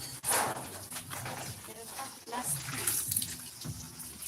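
Water runs and splashes during the rinse stage of hand laundry, a fluctuating wash of pouring and sloshing with people talking over it and birds faintly in the background.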